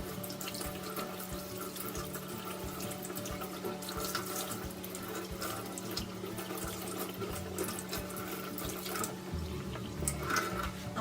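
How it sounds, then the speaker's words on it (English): Hands being washed under a running tap at a sink during a clinical care procedure, a steady close rush of water with splashing changes as the hands move, no speech. "After washing my hands"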